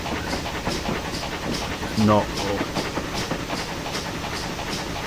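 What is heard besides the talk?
steam train running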